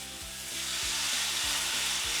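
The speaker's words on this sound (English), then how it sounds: "Listen to that sizzle" Meat strips sizzle loudly in hot oil, a constant bright crackle with a faint repeating low thump underneath.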